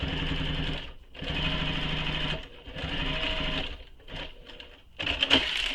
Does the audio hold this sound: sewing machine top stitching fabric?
yes